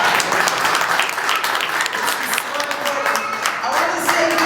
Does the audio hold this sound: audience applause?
yes